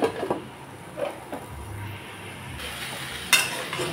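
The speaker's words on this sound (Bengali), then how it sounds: "পুঁই ডাঁটা আর সবজিগুলোকে ভালো করে ভেজে নিলাম।" Malabar spinach stalks and mixed vegetables frying in a pan with turmeric and salt, a soft steady sizzle under a few stirring clatters and a sharper scrape near the end, with no talk.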